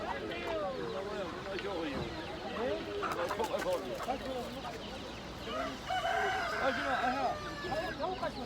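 Hens cluck busily and a rooster crows amid a noisy outdoor crowd at a poultry market in Taşköprü, Kastamonu, Turkey, with people talking throughout.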